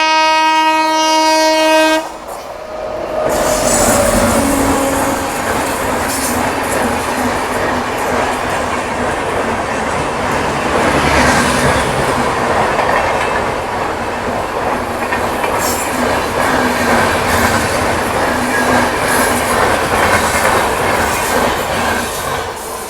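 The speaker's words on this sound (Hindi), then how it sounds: "चलिए उधर से सोमनाथ जबलपुर एक्सप्रेस भी आ गई है फुल हॉकिंग के साथ।" The Somnath Jabalpur Express passes on Indian railway tracks, opening with a loud multi-tone horn blast followed by a long, roaring rush of clattering wheels and carriages close by.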